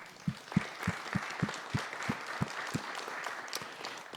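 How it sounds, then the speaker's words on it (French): Applause at a public council meeting in Edmundston, a moderate crowd clapping steadily with a few sharper individual claps standing out, fairly close and without talk. "On peut vous donner une bonne main d'applaudissement."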